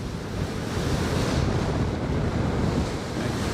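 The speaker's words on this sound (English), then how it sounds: "Got a lot of headwind, I can tell you that." Steady roaring wind rushing over the microphone while riding a bicycle into a headwind at about 28 mph, a broad continuous buffeting that stays loud and close for the whole stretch.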